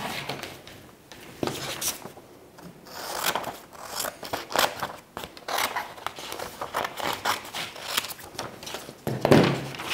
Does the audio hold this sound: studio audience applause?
no